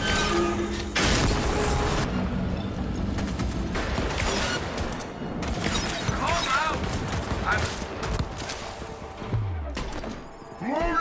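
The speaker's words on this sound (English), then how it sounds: "It's gonna explode." Cyberpunk Phantom Liberty game audio brings dense rapid gunfire, booms and crashing impacts packed together at fairly high loudness for the full stretch, with a voice speaking briefly beneath the chaos.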